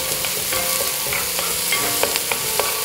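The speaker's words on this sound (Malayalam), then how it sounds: "നന്നായി ഒന്ന് ഇളക്കി കൊടുക്കാം" Four medium sliced onions fry in a pan for a soya chunk roast, a loud steady sizzle with quick clicks and scrapes of stirring, close and with no voices.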